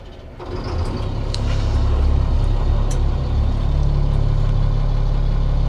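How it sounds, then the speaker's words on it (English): Diesel engine of an M1083A1 military surplus truck converted into a fire rescue brush truck cranks and catches, then settles into a loud, steady idle rumble. "So I'm gonna go ahead and crank this truck up, and we'll take you guys for a quick spin"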